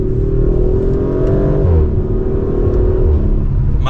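A 2024 Audi RS5 Coupe Competition with Steptronic automatic in manual mode accelerating mildly after a downshift, a loud steady engine drone rising smoothly in pitch from inside the cabin.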